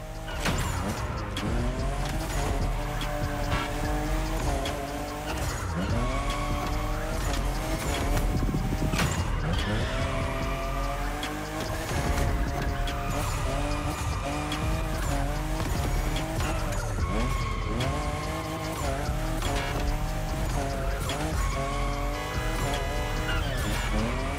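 Tires squeal and skid almost without pause as a car drifts in The Crew Motorfest, the engine revving beneath steady music.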